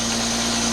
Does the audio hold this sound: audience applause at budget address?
no